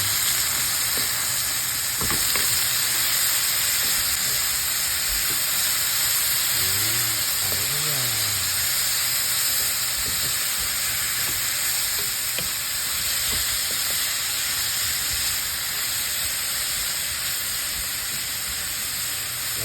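Bitter gourd (ampalaya) goes into a pan with plenty of tomatoes, giving a steady, moderate frying sizzle throughout, with a few soft stirring clinks and bumps and no talking.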